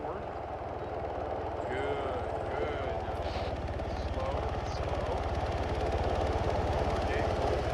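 A helicopter in the video game Arma 3 hovers with a steady rotor thump and engine drone that swells slightly over time, while a voice talks briefly over it.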